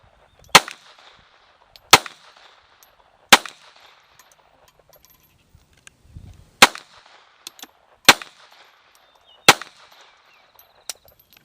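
Six sharp, loud pistol shots from a Colt, spaced about every one to two seconds, fired at a steel pizza-guy zombie target downrange at an outdoor range, each crack trailing a brief ringing decay.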